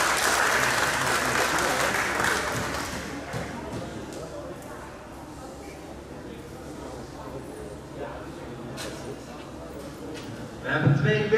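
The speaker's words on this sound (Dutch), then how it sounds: "mag ik een warm applaus voor deze twee strijders" Warm applause for two youth kickboxers at a kickboxing gala, a loud burst of many hands that fades over a few seconds into crowd murmur and talk, with a brief louder swell near the end.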